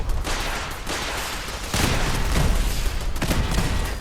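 Machine gun turrets and missiles fire during a settlement ambush in Fallout 4, a dense, continuous barrage of rapid gunfire with heavier booming blasts swelling partway through and no talk.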